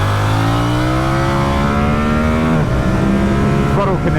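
A 2022 Yamaha YZF-R7 motorcycle engine revving up under throttle on a ride, a loud, close, rising mechanical drone that climbs steadily in pitch before a shift and climbs again.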